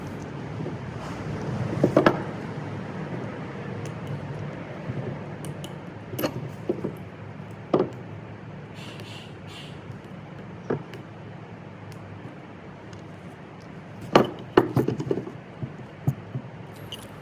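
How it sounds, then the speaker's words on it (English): A small metal pick pops O-rings out of a Subaru Sambar brake caliper during a rebuild: scattered light clicks and taps, some in quick pairs, over quiet room noise. "just being somewhat careful with a little metal pick, you can pop all 4 of those out"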